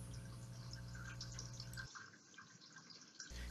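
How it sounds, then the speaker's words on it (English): Water from melting ice runs and trickles outdoors, a soft steady flow with scattered drips, faint and captured by an outdoor security camera microphone. "you can hear the water from the melted ice running"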